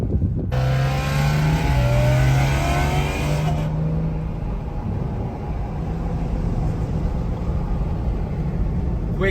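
A BMW M car's engine blips and revs during a downshift. A loud, rising and falling engine tone lasts about three seconds, then fades into steady road and cabin noise as the car keeps rolling.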